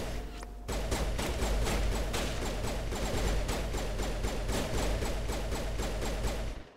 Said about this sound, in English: I don't know what they're shooting at